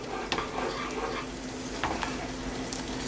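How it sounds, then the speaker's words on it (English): Sambar being stirred in a pot over the flame, a steady simmering hiss with a few soft spoon scrapes and taps, close and moderately quiet, no talking. "We mix it everything together."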